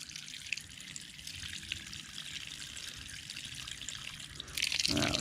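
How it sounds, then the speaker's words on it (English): Running water rinses a dirty K&N air filter, a steady broadband splashing hiss throughout that swells louder near the end as the flow increases. "Let's give it a good rinse."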